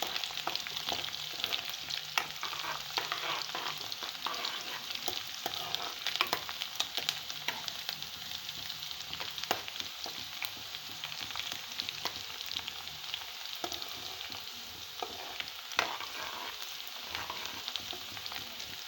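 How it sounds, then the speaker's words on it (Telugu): Chicken frying in oil for a chicken curry until golden, a steady dense sizzle and crackle running throughout with occasional stirring scrapes, no voices. "కొంచెం గోల్డెన్ కలర్స్లో వచ్చేదాకా ఫ్రై చేస్తున్నాను"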